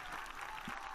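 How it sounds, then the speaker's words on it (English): Spontaneous applause from the crowd at the Vatican Way of the Cross after Pope Francis's blessing, a continuous even patter of many hands clapping at moderate distance. "the crowd erupting in spontaneous applause with Viva il Papa"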